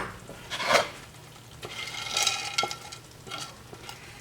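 Meat tipped back into a pot of Cajun shrimp and sausage gumbo, giving a moderate sizzle with scraping stirring bursts and a soft clatter of the spoon against the pot, no voices.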